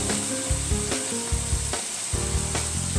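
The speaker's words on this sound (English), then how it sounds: "You start cooking and it go really small in the pan." Kale sizzles and crackles loudly in a pan for a prawn stir-fry rice, a steady close frying hiss with repeated clanks and scrapes of a utensil against the pan, no voices.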